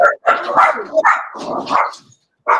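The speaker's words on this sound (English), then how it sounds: "oh, we hear dog." A dog barks indoors in several loud, close bursts of varied pitch, with short gaps between them and a final yelp after a brief silence.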